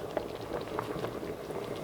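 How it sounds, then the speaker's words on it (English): A pot of chicken curry simmers quietly, with soft irregular bubbling and popping at a gentle, low level. "We'll go ahead and let that simmer."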